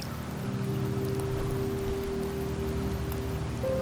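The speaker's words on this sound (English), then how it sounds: "The rains in Septimont never seem eager to leave this season." Steady rain falling in the Septimont region of Wuthering Waves, an even, continuous patter with a faint tonal hum from the game's ambience underneath, no voices.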